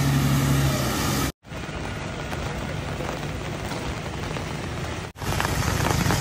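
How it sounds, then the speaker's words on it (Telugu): Steady, heavy rain pours down on a road in a dense continuous hiss, with a brief drop-out of sound partway through and again near the end. "వాన అయితే ఫుల్ పడుతుంది"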